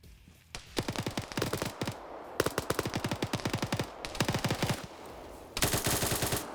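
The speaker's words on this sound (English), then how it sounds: "Twig spotted him with the 50 cal and took him out." Bursts of rapid .50 cal machine gun fire in an online shooter game, evenly spaced heavy shots in several long volleys with brief pauses, loud and close.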